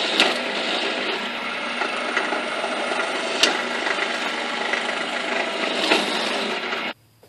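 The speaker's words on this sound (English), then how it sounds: "So let's get these drilled out." Drill boring holes in a small metal part for a mini crossbow after center-punch dimples, a steady continuous grinding whir running several seconds with a couple of brief sharp catches, then cutting off abruptly near the end.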